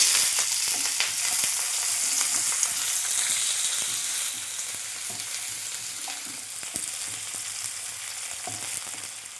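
Raw onion hitting hot oil with cinnamon, cardamom and a bay leaf, giving a bright, steady close-up sizzle that eases slightly partway through, with occasional stirring clicks and no talking.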